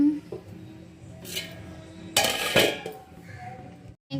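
A metal lid is set onto a pot of upma in a home kitchen, giving a bright clatter followed by a longer ringing clank, close and loud, with quiet household background before and after.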